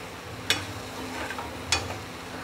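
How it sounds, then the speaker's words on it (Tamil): Tomatoes sauté in a pan with sambar powder for vathal kuzhambu. A soft, steady sizzle is broken twice by a brief scrape of stirring. "இப்போ வந்து அதோட ஒரு 2 டீஸ்பூன் வந்து சாம்பார் தூள் சேர்த்துக்கு வதக்க போகிறோம்"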